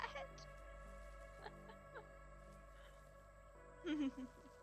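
A bird in the video game Grounded 2 lets out a brief, fairly loud cluck near the end, over steady game ambience and quieter scattered clicks.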